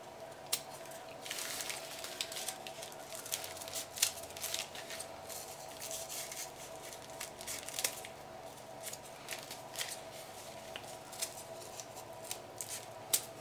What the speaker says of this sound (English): I'm just going to take my scissors and cut those corners off